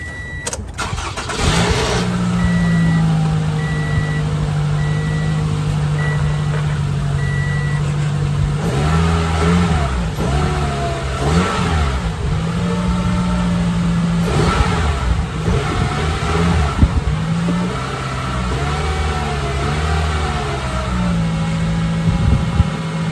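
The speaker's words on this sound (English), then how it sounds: "I'm gonna go turn on the car, make sure everything is running smooth" A car engine, just given a tune-up, cranks and catches, then settles into a steady idle broken by several loud revs, heard close and alone for the whole stretch.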